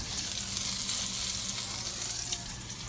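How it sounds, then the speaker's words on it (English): Cornmeal-breaded gar fish frying in hot grease gives a steady, dense sizzle with fine crackling throughout, close and fairly loud, with no voices. "now we're gonna bread it up into cornmeal and let it fry"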